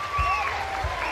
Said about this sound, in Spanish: Den el aplauso para los ganadores, den el aplauso.